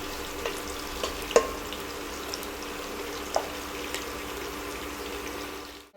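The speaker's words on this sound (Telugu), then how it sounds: "కొంచెం వేగనిద్దాము" Ivy gourd (dondakaya) fries in a pan with garlic for chutney. A soft, steady sizzle runs throughout, broken by a few faint clicks and taps.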